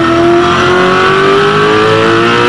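V8 Supercar race car at Eastern Creek in 2003, its engine held loud and steady at high revs with a slowly rising tone as it pushes hard along the track, no voices over it.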